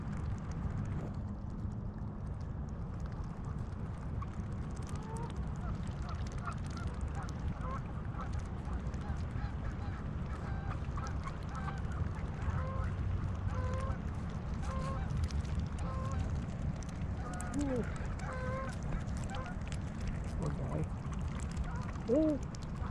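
Ducks and ducklings honking and quacking repeatedly at moderate distance over a steady low background rumble, with a few calls clustered toward the end.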